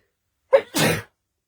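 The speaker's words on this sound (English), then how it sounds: "Oh, I think I'm going to sneeze." A single close, loud sneeze from a person: a short sharp intake followed by a burst of explosive noise, with no talking around it.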